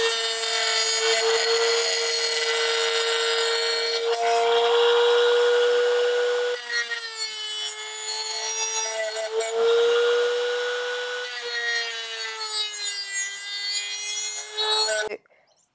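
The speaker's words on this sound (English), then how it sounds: "you get yourself one of these sharpening kits, that's if you have a rotary tool like a Dremel" A Dremel rotary tool with a sharpening attachment grinds the edge of a lawn mower blade, a loud steady high-pitched whine with harsh grinding that runs continuously for about fifteen seconds, wavering slightly in pitch before cutting off abruptly.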